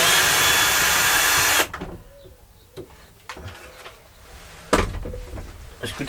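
A power tool whirs loudly for about a second and a half while backing screws out of a sink in a rotting Talbot Express camper van, then stops, leaving faint taps and clatter.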